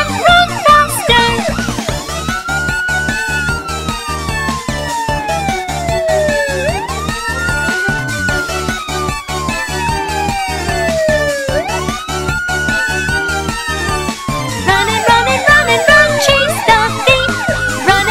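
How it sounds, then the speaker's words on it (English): Police car siren in a children's cartoon nursery rhyme, a loud continuous wailing siren that sweeps up and down over bouncy music with no speech. "Police car!"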